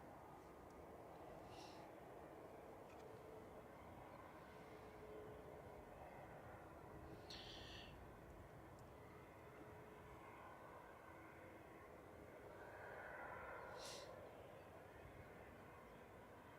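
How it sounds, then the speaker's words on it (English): An Emirates Airbus A380 arriving from Dubai at Manchester Airport, a steady distant jet roar that swells gently and fades, heard faintly through hazy outdoor air with a few brief light clicks. "So here we go, coming in from Dubai, the second A380 of the day."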